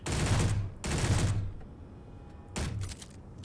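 Bursts of automatic gunfire ring out in a video game as soldiers are shot at: two long, loud volleys back to back, a quiet gap, then a third shorter burst, with no talk.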